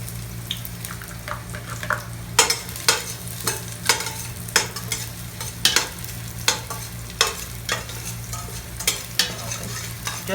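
Garlic fries in a little cooking oil with a steady sizzle under a low hum, punctuated by a regular series of sharp stirring scrapes and taps.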